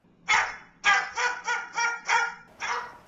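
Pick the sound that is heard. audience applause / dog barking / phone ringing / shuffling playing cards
dog barking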